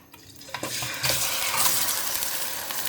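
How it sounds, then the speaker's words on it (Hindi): A kilo of chicken frying in ghee in a kadhai, a steady hiss of sizzling with a few stirring scrapes and clinks at the start, close and continuous with no talk. "इस घी में हमने चिकन को तकरीबन 4 से 5 मिनट के लिए फ्राई करना है।"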